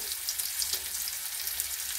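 Onions fry in a pan with vegetables as a dense, steady sizzle up close. Faint crackles run through it, with no pauses and no voices.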